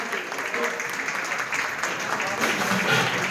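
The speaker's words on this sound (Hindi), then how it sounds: "प्लीज जोरदार तालियों के साथ" An audience at a Bharat Vikas Parishad event gives a guest sustained, dense applause, a steady wash of many hands clapping at moderate level, with faint voices beneath it.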